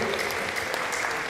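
A church congregation applauding, a steady dense patter of many hands clapping at once, moderately loud and unbroken for a brief moment.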